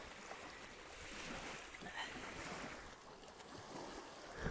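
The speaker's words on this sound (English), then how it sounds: "The waves are really picking up." Blustery winter surf at Sunrise Beach Park, with waves rolling and washing in steadily under a constant rush of wind, broadband and continuous with no talk.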